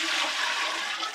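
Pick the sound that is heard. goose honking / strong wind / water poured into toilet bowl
water poured into toilet bowl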